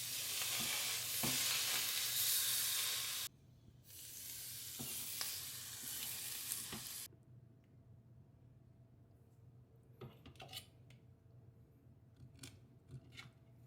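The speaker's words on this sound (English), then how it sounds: "Let's put in the ribs." Pork ribs hiss and sizzle loudly as they go into an air fryer preheated to 400 degrees, the sizzle dropping in stages before fading to quiet scraping and clicks.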